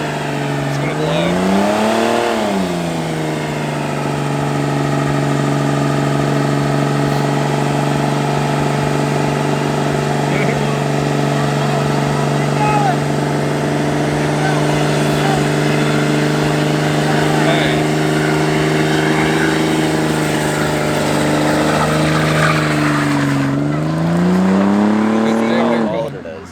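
A car does a burnout after a car show on junkyard tires, with its engine held at a steady loud rev for about twenty-five seconds while a tire spins, dipping briefly near the start and near the end.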